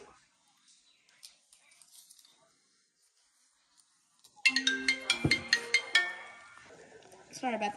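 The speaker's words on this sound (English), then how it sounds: "Stop the recording as soon as I heard the ringtone of them." A phone ringtone cuts in loudly, a bright repeating electronic melody in steady pulses during a home pizza-making session, following a stretch of near silence with faint kitchen noises.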